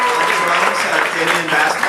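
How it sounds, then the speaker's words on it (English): Audience applause for a live band at a concert, a dense burst of clapping with crowd voices mixed in, loud and close for a short stretch. "each give a round of applause for the band, fantastic band."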